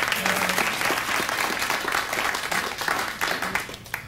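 A television studio audience applauds steadily, a dense wash of clapping from many hands that continues without pause.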